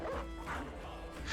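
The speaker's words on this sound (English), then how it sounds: "The dog you just heard, right?" A dog barks in the video game Battle Brothers, several short yips over steady game noise. No clear voice is heard.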